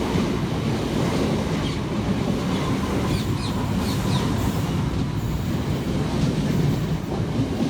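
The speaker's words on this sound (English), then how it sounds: "Arriving next into the station is 465902 and 465932, working the 1440 Southeastern service from Hayes through to London Charing Cross" Southeastern class 465 electric train pulling into a station on the Hayes line, a steady loud rumble of wheels on rails with faint clickety-clack and brake squeals, continuous and close throughout.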